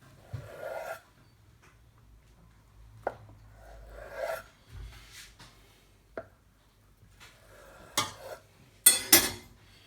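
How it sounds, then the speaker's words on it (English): A knife slices through a block of homemade halloumi cheese curd with soft, close scraping strokes and brief pauses. A few sharper clinks of the blade follow near the end. "Now I'm going to cut it up into the sort of sizes I'm looking for."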